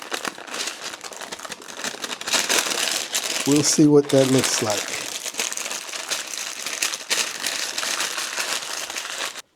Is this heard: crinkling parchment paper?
yes